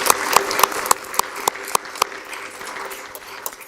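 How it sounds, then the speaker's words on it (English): Scattered applause at a school board of education meeting, sharp individual claps standing out in an irregular rhythm over a thin, fading round of clapping in a meeting room. "Let's give them one more round of applause"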